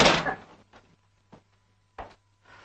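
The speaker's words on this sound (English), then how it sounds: "Close the door, please." A door is closed indoors in an old film: a loud rush and clunk opens the moment, followed by a few soft knocks and a sharper thud shortly after, with quiet pauses between.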